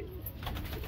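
A brief burst of cooing from wild red Lalban pigeons of Sonipat held in a net, close and fairly quiet, with no talking.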